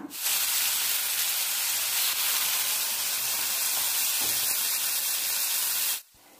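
Chicken pieces pan-frying in hot oil for a mini tandoori give a loud, steady, close sizzling hiss that holds evenly for about six seconds, then cuts off abruptly.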